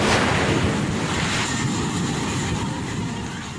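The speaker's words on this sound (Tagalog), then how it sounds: "Hinahambalos ng rumaragas ang tubig ng ilog sa Tibuli, South Cotabato ang hanging bridge na yan." Rushing floodwater from a swollen river in Tiboli, South Cotabato, striking a hanging bridge during heavy rains: a loud, dense, continuous roar of churning water with wind buffeting, no voices.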